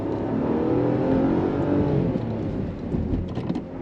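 A Renault Kardian's three-cylinder engine revs harshly while the car is driven, a loud, rough drone heard from inside the cabin with no talking over it.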